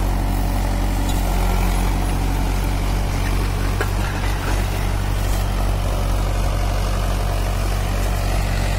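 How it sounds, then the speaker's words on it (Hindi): A Mahindra 475 DI tractor pulls a 12-disc harrow through field soil. Its diesel engine gives a heavy, continuous low rumble with steady broadband clatter, loud and close, with no talking. "काम करता हुआ महिंद्रा ट्रैक्टर।"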